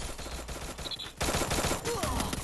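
Rapid bursts of gunfire from a Free Fire battle royale match crackle in quick succession, loud and dense in the second half, with a brief voice beneath the shots.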